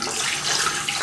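Cold water pours steadily from a tap in a bathroom sink, a close, continuous bright hiss and splash.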